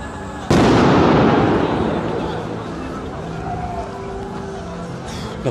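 New Year's Eve fireworks in Prague let off one sudden loud, close bang that rolls into a long crackling, rumbling decay, with distant pops and a faint siren-like whine behind it.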